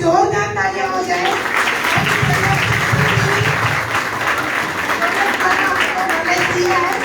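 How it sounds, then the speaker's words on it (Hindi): Hearty applause from a training session audience for the female trainer, a speaker's voice trailing off at the start before steady, dense clapping fills the rest. "मैम के लिए जोरदार तालियां हो जाए"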